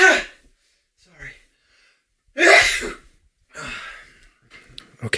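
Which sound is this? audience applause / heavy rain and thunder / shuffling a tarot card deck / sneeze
sneeze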